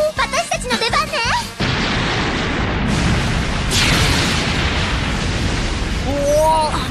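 A cartoon explosion in the Akazukin Chacha anime OVA bursts loud and sustained after a few seconds of animated voices, roaring broadband for several seconds with a second surge midway before dying under more speech.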